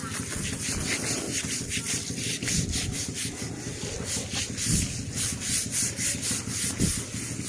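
Repeated rough scrubbing strokes on an elephant's skin during a bath, a steady, close rasping rub with a rhythmic back-and-forth pulse and no talk over it.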